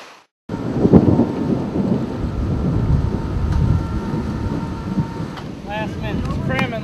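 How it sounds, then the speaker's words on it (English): Thunder from an oncoming thunderstorm at a motocross training spot: a sudden onset of deep, heavy rumbling that rolls on steadily and loud, with faint voices and other sounds breaking in near the end. "I just told Wacker, nothing eases your nerves like the threat of an oncoming thunderstorm"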